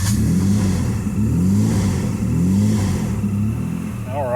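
Nissan Z engine with freshly swapped turbos, running after months idle and primed with starter fluid, holds a steady rumbling rev with rising and falling pitch swells, loud and close throughout, with a brief higher whine near the end.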